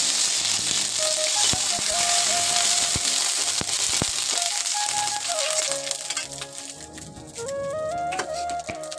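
Dry red chillies tempering in hot oil in a home kitchen, a steady crackling sizzle running throughout with sharp pops and clicks, while tonal music plays over the top.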